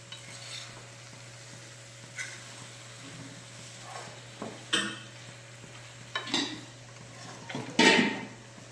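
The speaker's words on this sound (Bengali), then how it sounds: "তাওয়াটা গরম হয়ে গিয়েছে, আমি এবারে নানটা দিয়ে দিলাম।" Naan laid on a hot tawa griddle at home, giving a faint, steady sizzle under soft clinks and scrapes of utensils, with a few louder clatters near the end.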